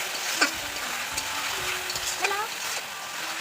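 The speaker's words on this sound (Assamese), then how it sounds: "ভাজি আছোঁ" Steady frying sizzle fills the clip, with a few stirring scrapes and clinks of a utensil against the pan.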